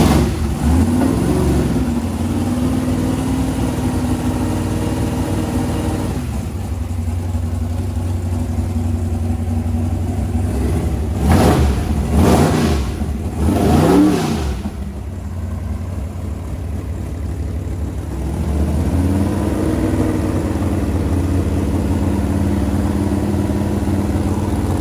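No-prep drag race car engine, built by the manufacturer, idling loud with a rough, lumpy rumble, then revved several times in sharp bursts before settling back to a heavy idle.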